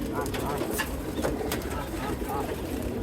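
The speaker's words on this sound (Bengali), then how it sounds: "ওস্তাদে কবুতরগুলো ঢুকাইতেছে খাবার দিবে এখন" Pigeons coo softly amid steady background noise and rustling, the calls low and partly buried in the ambient din.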